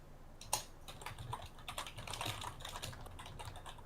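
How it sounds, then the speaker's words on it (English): Rapid, furious typing on a computer keyboard during a Factorio Space Age multiplayer session, a close, dense stream of clicks and key taps with one sharper strike early on, with no talking. "All I hear is furious typing."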